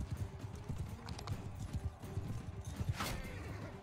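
Horses gallop in the Mount and Blade 2 Bannerlord video game, a dense, steady drumming of hooves held at a low level throughout, with one brief brighter burst near the end.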